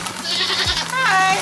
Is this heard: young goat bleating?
yes